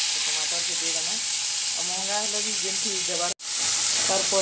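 Green chillies hit hot mustard oil and set off a loud, steady sizzle, broken by a brief dropout. Someone talks over the frying.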